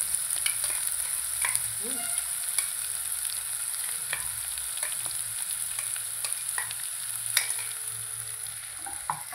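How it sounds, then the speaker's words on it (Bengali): Onions fry in a pan with a soft ongoing sizzle beneath a steady hum, punctuated by repeated clicks and scrapes of stirring, fairly quiet and close, with no talking. "পেঁয়াজটা একটু লাল লাল হোক"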